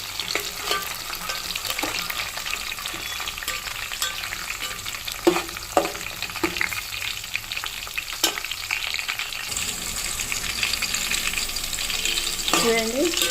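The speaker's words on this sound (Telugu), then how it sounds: "ఇది చూడండి ఎర్రగడ్డలు బాగా ఫ్రై అవుతున్నాయి." Sliced onions fry in hot oil in a pan, a steady close sizzle with occasional spoon scrapes and taps, and a brief clatter near the end.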